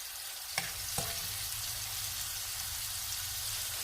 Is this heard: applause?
no